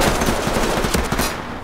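Rapid automatic gunfire rattles through a Ready or Not firefight, a dense burst of close, loud shots in quick rhythm that cuts off near the end.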